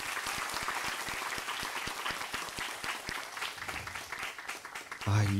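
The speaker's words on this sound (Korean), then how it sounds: "박수 한번 부탁드리겠습니다." An audience at a global leader and youth forum breaks into sustained applause, dense steady clapping from many hands that fades near the end as a voice begins speaking.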